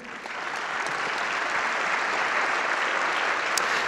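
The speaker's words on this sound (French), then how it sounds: "le maire de Lyon, vous pouvez l'applaudir." An audience at a conference on cities in transition applauds the mayor of Lyon, a dense, steady wash of clapping that swells slightly at the start and holds evenly throughout.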